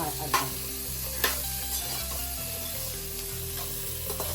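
Onions sautéing in a pan for a kovakka fish curry, a soft steady sizzle with a couple of sharp spoon clicks against the pan, close and faint, no talking.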